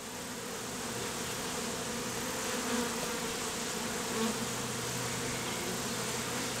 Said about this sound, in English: what do you do with all them bees on your face?